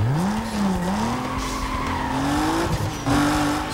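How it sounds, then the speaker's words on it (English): A car burnout in Need for Speed Most Wanted, with tires squealing loudly and continuously while the engine tone rises and falls, close and steady for several seconds. "Stop doing a burnout"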